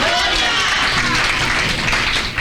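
Congregation applause at a church service, a dense steady wash of clapping from a crowd that fills the whole moment without a break.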